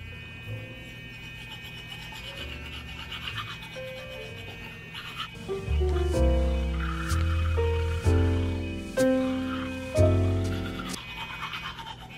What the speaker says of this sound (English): I'm ready to brush my teeth the right way.